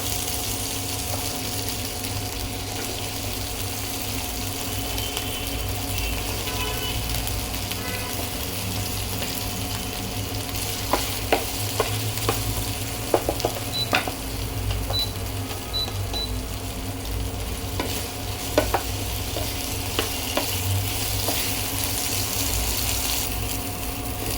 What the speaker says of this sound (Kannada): ಬೆಂಡೆಕಾಯಿನ ಫ್ರೈ ಮಾಡ್ಕೊಳ್ಳಿ